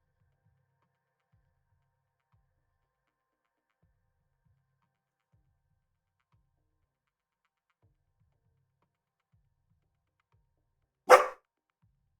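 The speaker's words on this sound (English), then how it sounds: "I gotta go check on my dog. That was a really weird noise." A dog gives one short, sharp bark-like noise somewhere in the house, heard alone after a long stretch of near silence.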